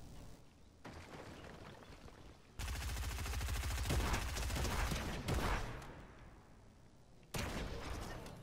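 Rapid automatic gunfire in a Star Wars-themed Fortnite match, several sustained bursts of fast repeating shots separated by short quieter gaps, loud and close.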